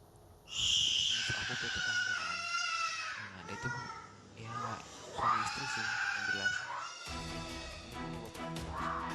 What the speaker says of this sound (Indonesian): suara teriakan bocah tersebut direkam oleh tetangga depan rumahnya